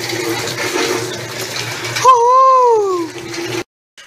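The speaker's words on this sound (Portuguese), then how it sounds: "rapei aqui toda a água já" Water being scraped off a bedroom floor during cleaning, a wet, sloshing push that runs for a couple of seconds and then gives way to a squeaky, rising and falling tone before it cuts off.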